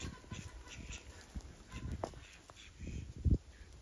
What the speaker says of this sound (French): Alors les petits canards, comment ça va les petits chéris?